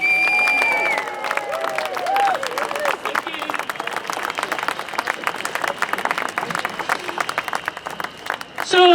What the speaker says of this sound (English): give a massive round of applause for Marlene Halliday